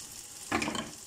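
Garlic frying in a pan: a brief, soft burst of sizzling and crackle, faint and close, with no talk.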